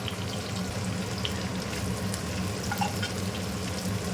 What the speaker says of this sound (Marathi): लसूण धुवून घेतली आणि सालासकट मी चेचून घेतली ही घालते थोडासा कढीपत्ता आणि एक दोन चार कोकम हे मी फोडणीमध्ये घालते